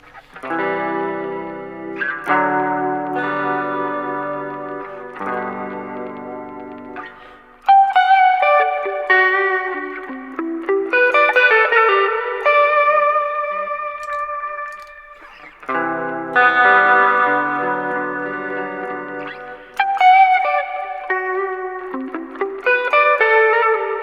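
Electric guitar chords and arpeggios ring out through a Zoom MS-series modulation pedal with chorus-like shimmer and reverb, loud and sustained, played alone in several phrases.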